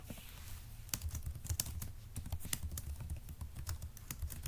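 Steady, rapid clicking of computer keyboard keys being typed, close and fairly loud, continuing without pause and with no voices over it.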